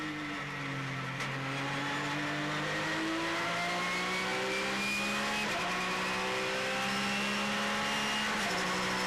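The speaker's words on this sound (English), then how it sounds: "the Mercedes silhouette of Guerin and Lacoste passing Lemay in the Mégane" Race cars on an endurance circuit, including a Mercedes silhouette and a Renault Mégane, roar past with rising and falling engine pitch as they accelerate and shift, a loud continuous motorsport din.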